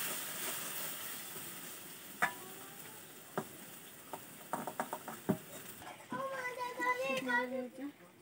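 Rohu fish oil curry stirred in a pan, quiet sizzling with scattered clicks and scrapes of the spoon, then a brief burst of faint voice near the end.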